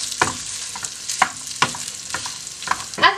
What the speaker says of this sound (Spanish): Vamos a sofreír